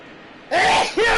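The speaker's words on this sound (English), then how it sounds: "I got a sneeze coming on" A baseball play-by-play announcer sneezes live on air during a Boston vs San Diego game broadcast: a sharp, close two-part burst, a loud voiced intake and then a second explosive release after a moment of quiet.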